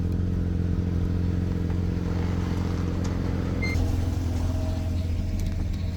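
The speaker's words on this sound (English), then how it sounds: "Throw this thing in reverse. Went into reverse, and let's back off the trailer here." A Jeep Grand Cherokee WJ idles and rumbles steadily up close as it backs off a trailer, with a faint clatter over the low engine drone.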